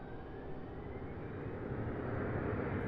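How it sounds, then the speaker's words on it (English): An American Airlines Embraer jet takes off from Raleigh-Durham International. Its loud, continuous engine roar carries a faint rising whine that builds over a few seconds. "an American Embraer taking off"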